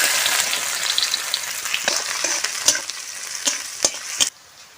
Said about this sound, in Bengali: পেঁয়াজ কুচি দিয়ে দেবো এখন।